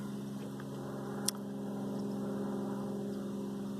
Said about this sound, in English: Right to the north of my head, you can hear a single engine plane